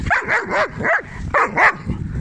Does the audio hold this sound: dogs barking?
yes